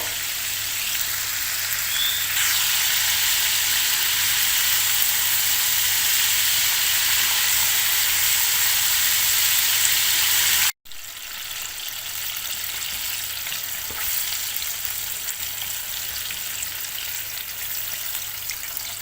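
Korean-style chicken wings deep-frying in hot oil, a loud, steady sizzle and bubbling that runs unbroken, cut off abruptly for an instant partway through before the frying resumes slightly quieter.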